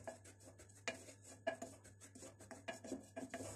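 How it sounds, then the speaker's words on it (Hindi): Wheat flour roasting in hot ghee is stirred and scraped around a pan, soft rasping strokes in an irregular rhythm, quiet and close with no voices. "इस आटे को घी के अंदर भून लेते हैं इसको बहुत अच्छी तरह से।"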